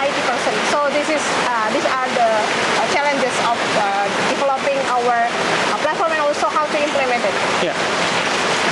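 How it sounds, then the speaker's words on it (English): Heavy pouring rain makes a dense, steady hiss that fills the whole clip without a break, while a person talks continuously over it. "it's pouring rain here"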